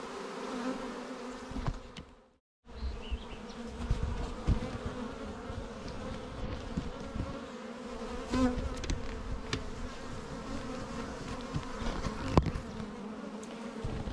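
Honeybees hum around new hives that are calm, a steady close buzzing swarm with occasional louder passes near the ears and a brief drop-out early on.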